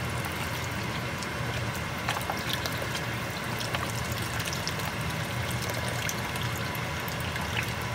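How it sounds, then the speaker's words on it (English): Beef broth being poured into a pot holding smoked sausage for jambalaya pasta, a steady liquid trickle and splash running continuously at moderate level with no talking. "you want to add the remaining broth just to cover everything"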